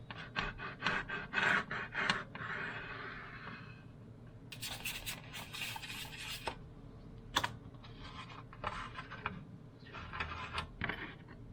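A fine Tamiya file scribes a plastic model kit, making close, quiet rasping strokes in short bursts with small clicks and taps between them.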